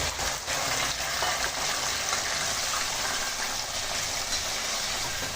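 Mutton gravy frying in a pan in a home kitchen, a continuous bubbling sizzle with occasional stirring scrapes, steady and close, no voices.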